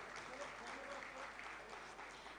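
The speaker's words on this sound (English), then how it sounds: "louder round of applause for MSME steel sector" An audience at a steel-industry conclave for small and medium enterprises gives a faint, steady round of applause that holds evenly throughout without pause.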